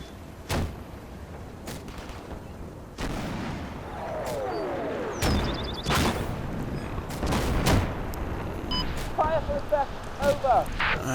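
In Combat Mission, tank cannon fire between an M10 and a Panzer IV lands as a handful of sharp, heavy booms spaced seconds apart over battlefield ambience, while someone talks over it.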